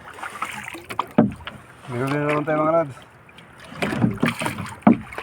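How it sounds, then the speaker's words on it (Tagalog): A small wooden boat is paddled during night squid fishing, with soft splashing and knocking strokes at irregular intervals close by, while someone talks over them. "Sagwan ulit tayo."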